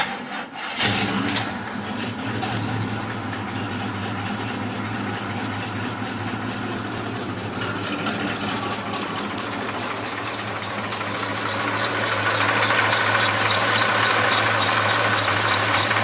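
A 1972 Chevrolet C10 Cheyenne pickup with a 400 V8 fires up abruptly and then idles with an even, rhythmic rumble close by, growing slightly louder toward the end, with no talking.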